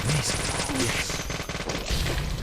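Rapid bursts of gunfire from the video game Deadly Premonition, repeated headshot shots cracking close and loud in a dense, continuous volley with game music and effects underneath.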